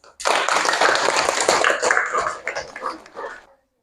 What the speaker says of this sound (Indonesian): beri tepuk tangan untuk kelompok detik